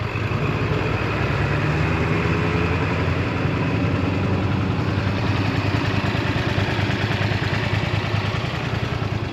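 A 1989 Honda VTR 250 motorcycle with 1,500 miles idles steadily close by, its engine running at an even, continuous level throughout with no talking.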